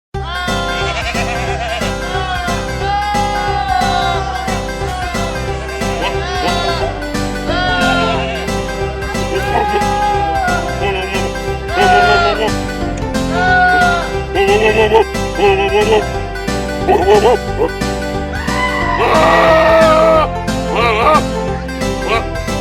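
Goats bleat repeatedly through a rockabilly-style piece with banjo and viola, their wavering cries rising above the strummed groove, especially loud toward the end.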